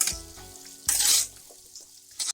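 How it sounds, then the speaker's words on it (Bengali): A spoon stirs bottle gourd, prawns, turmeric and spices in a pan, giving two short bursts of scraping sizzle, the second louder, with quieter gaps between them. "এবারে সব মশলা দিয়ে এগুলোকে নেড়ে নিচ্ছি"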